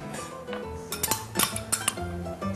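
A spoon clinks against a bowl in a home kitchen, several sharp close ringing taps scattered over a couple of seconds above faint background noise, with no talking.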